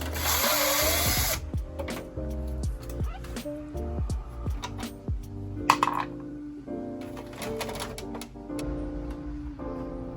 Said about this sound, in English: there's a couple screws on either side that you have to remove in order to pull the old stock unit out